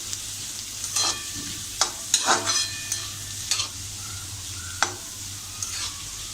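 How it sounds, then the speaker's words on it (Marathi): Onions fry in a pan, giving a steady sizzle, while a spatula stirs and scrapes them in several sharp, irregular knocks against the pan. "आता आपण हा कांदा असा छान लाल रंग येईपर्यंत असा परतून घेऊया"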